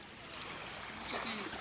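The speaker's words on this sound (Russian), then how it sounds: "Ну да, это звук воды." Water lapping and rushing at the shore of the Pirogovskoye reservoir, a steady soft broadband wash heard close by outdoors, with faint voices in the background.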